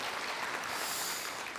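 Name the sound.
audience applause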